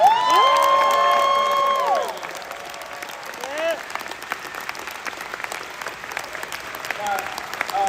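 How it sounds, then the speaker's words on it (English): A large audience at a PAX East Cyberpunk development panel bursts into sustained applause and cheering, with loud whoops and shouts over steady clapping that gradually thins out. "Crowd, can we get an applause?"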